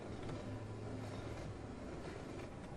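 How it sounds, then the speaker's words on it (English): Steady, continuous rumble of a moving train in Half-Life 2, a dense low roar with rail noise held at an even loudness throughout, no voices. "Train riding time."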